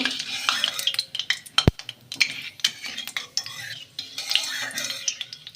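Cumin seeds being stirred in hot mustard oil in a pan, with a spoon scraping and clinking against the metal in a quick irregular rhythm over a soft sizzle; no voices.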